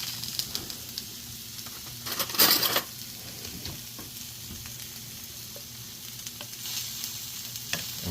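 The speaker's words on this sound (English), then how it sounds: "And we're going to mix that in until the honey starts to dissolve and blend in." A spoon stirs a honey and low-sodium soy sauce marinade with vinegar in a bowl, giving soft scraping and swirling sounds with a brief louder clatter partway through, no talking.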